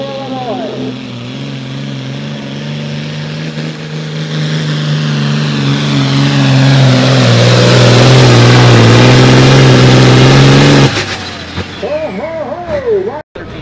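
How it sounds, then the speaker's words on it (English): John Deere farm tractor at a 10,000 lb pro farm tractor pull in Platteville, Wisconsin, its engine roaring loud and rising in pitch for several seconds before cutting off, with a crowd and a voice over a loudspeaker. "I believe this tractor is called the Green Mill. John Deere."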